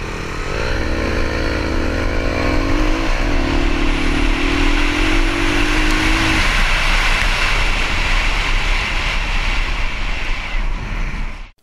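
A Kawasaki KLR650 adventure motorcycle rides on Illinois roads, its single-cylinder engine droning loud and steady with a rising rev early on, then a rough continuous roar mixed with wind until it cuts off at the end.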